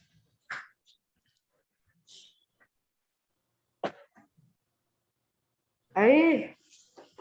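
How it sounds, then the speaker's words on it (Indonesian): A few scattered short coughs and throat noises with pauses between them, then a louder voiced burst near the end; no clear speech. "Jangan dipanggil nenek, jadi batuk-batuk terus"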